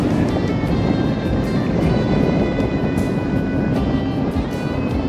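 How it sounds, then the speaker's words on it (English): Fabric of a shirt collar flaps rapidly in strong wind beside the microphone, a loud continuous buffeting roar with irregular fluttering bursts, outdoors by a lake. "Hear my collar flapping."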